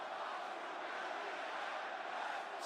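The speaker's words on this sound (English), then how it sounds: "the crowd's coming alive here" A live wrestling crowd at WrestleMania 41 roars in a steady, dense wall of cheering that holds at an even level throughout, with no clear voices standing out.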